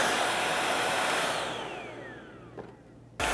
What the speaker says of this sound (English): there's a trigger on here and I've been pressing it apparently. So yeah, the motor is already able to work